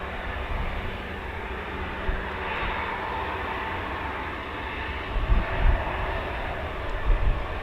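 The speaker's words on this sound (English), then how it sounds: "Beautiful performance takeoff there." Eurofighter Typhoon FGR4 fighter jet on a performance takeoff at RAF Coningsby, a steady broad engine roar heard from a distance, swelling slightly toward the end with no talk over it.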